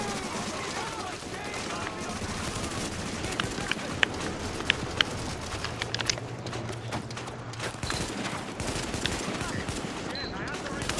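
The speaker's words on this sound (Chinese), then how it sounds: "这机枪一发一发的" Gunfire rattles through a battle in The Division, with dense, continuous bursts and scattered sharp shots over a busy mix of game noise.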